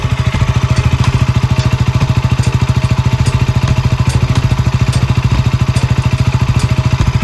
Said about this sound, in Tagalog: Pagdating naman sa kanyang exhaust system, naka-underbelly po ito at pakinggan po natin ang kanyang tunog.